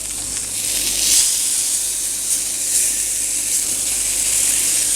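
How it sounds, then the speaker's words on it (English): Cooked pork browns in a pan with a little oil, giving a steady, bright frying sizzle that stays close and even throughout with slight swells. "We're going to add just a flicker of oil. This pork is all cooked. We're just colouring it."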